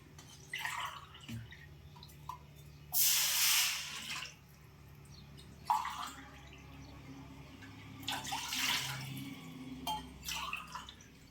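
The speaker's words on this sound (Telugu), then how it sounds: "ఇదిగోండి మూడు గ్లాసులు వాటర్ పోసుకుందాం" Several separate bursts of water splash and pour in short spurts into a pan with rice flour, with quiet gaps and faint clatter between them and no speech.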